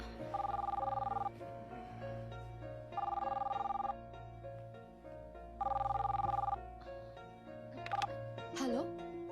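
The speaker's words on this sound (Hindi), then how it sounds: "इतनी सुबह सुबह किसको फोन कर रहे हैं सर?" An early-morning telephone rings in repeated electronic bursts, three long trills with short gaps, loud and near, followed by a brief chirp and a rising tone; a voice comes in near the end.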